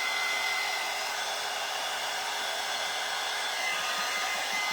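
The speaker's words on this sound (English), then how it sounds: "now I'm going to take my dryer" A hair dryer blows steadily on a paper craft, a constant broadband whoosh at moderate volume with no break, heard alone without any talking.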